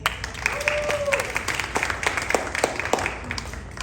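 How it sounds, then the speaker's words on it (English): Audience applause for a speaker at a TreePeople founding talk, a bright crackle of many hands with some individual claps standing out, steady and fairly close for nearly four seconds. "give him another round of applause"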